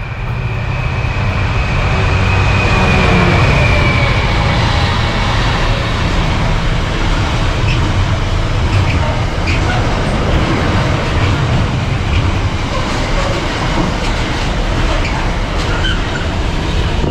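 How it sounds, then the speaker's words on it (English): A train rumbles past a railway footbridge in the village of Saxilby, Lincolnshire, a loud, steady broadband roar that holds for the whole stretch with a faint high whine early on. "And here comes a train."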